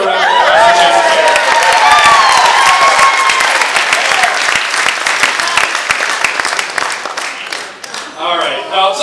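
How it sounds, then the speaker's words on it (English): Loud applause and scattered cheers and laughter from wedding guests during a brother-of-the-bride toast, dense at first and then thinning into sparser claps and chatter as a voice returns near the end. "Let's all give a round of applause for Jason's hair."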